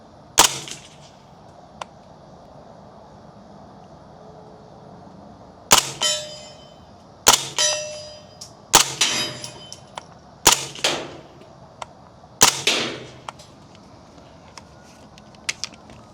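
Suppressed Century AP5 SD pistol firing 147-grain rounds into dirt at a range: about six sharp muffled cracks with ringing tails, spaced roughly a second or two apart, plus a faint earlier pop, with no talking.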